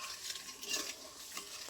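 A mango jelly mixture stirred in a pan as it cooks, a soft scraping stir with light sizzling bubbles, close and fairly quiet, with no talking.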